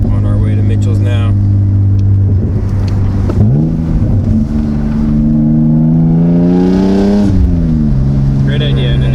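A BMW E36 with a gutted muffler idles with a deep, steady exhaust drone, then revs up and settles, loud and close, with people talking over it.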